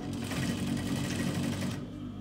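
A sewing machine runs a continuous fast stitch through a lined hooded coat, close and steady, then stops abruptly near the end.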